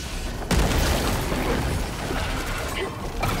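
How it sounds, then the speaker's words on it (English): A thrown grenade explodes in the video game Helldivers 2: one sudden, loud, broadband blast followed by a sustained rumbling roar of battle noise. "Throwing grenade!"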